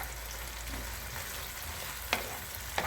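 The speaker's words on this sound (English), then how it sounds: "I'm just gonna give that a stir." Garlic butter shrimp sizzle softly in a pan over low-medium heat, with a steady quiet frying hiss and a couple of brief scraping clinks as the utensil stirs them.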